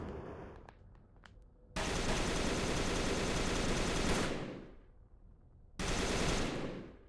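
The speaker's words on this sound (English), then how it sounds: "They're shooting back." Heavy automatic gunfire from enemies in the shooter game Discovery: Peripeteia, sustained loud bursts of rapid shots, a long volley then a pause and another burst, with faint scattered shots before.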